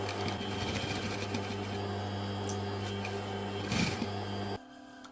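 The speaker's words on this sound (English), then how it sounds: "Now all we gotta do is start sewing from this end and go all around and finish off over here." A sewing machine stitches a leather luggage tag with a wide stitch length and a quarter-inch seam allowance. Its motor whirs and the needle chatters in a steady, close run that stops abruptly after about four and a half seconds.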